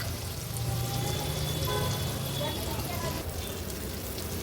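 Flipped mushi fish pieces fry on their second side in a pan for an Agri Koli style fish thali, giving a steady, close, fairly loud crackling sizzle that holds evenly without a break.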